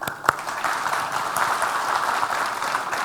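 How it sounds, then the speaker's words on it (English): Applause from an audience at a Ruby programming conference talk, a steady wash of clapping held at an even level throughout, with one sharper clap near the start. "applause to you."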